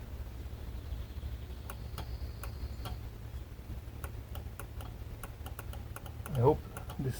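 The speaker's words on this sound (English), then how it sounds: "This is the fuel pump relay, or the fuel injection relay, and you can hear it click as I move the flap." Relay on a Bitter SC 356 with a no-start fault clicking repeatedly as the airflow flap is moved, a series of sharp faint ticks over a steady low hum, the fuel pump not running.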